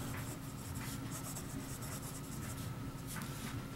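A fine-nib Scripto lever-filler fountain pen writing on paper gives a close, steady, soft scratching with faint stroke-by-stroke rhythm, alone without talk.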